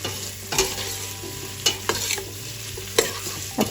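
Sliced onions sizzle and fry in a pot for chicken mandi while a spoon stirs them, scraping and clinking against the metal in several distinct strokes over a steady background sizzle.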